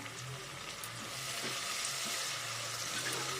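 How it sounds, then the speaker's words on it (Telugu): Chopped tomatoes frying for a curry, a steady close sizzle in a pan that continues evenly throughout with no talking. "ఇప్పుడు నేను టమాటో కూడా వేస్తున్నాను కట్ చేసి పెట్టుకున్న టమాటా ముక్కలు కూడా దీంట్లో వేసుకొని"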